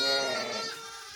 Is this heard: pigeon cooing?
no